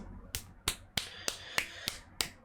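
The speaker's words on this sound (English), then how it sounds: "Claps and snaps for the lovely artist." Seven crisp finger snaps in an even, steady rhythm, close and clear against a quiet background.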